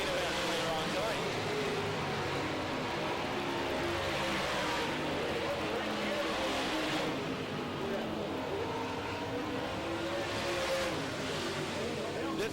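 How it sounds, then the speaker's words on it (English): Late model race cars warming up at Amsoil Speedway, a dense continuous roar of engines at a dirt oval with swelling revs as cars pass, and a commentator talks over it. "the cars are warming up just a bit here"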